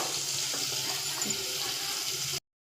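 Water running in a steady close stream, like pouring into a cooking pot, continuous and moderately loud before stopping abruptly, with no talking.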